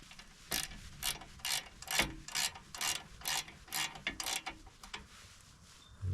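A wrench ratchets in quick clicking bursts while a bolt is snugged on the LP propane tank cover bracket of a Volkswagen Eurovan camper, about a dozen short close strokes with brief pauses between them.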